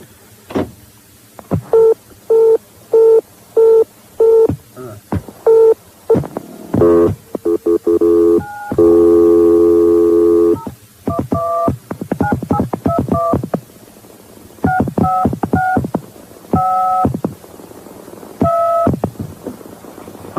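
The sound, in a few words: telephone keypad dialing tones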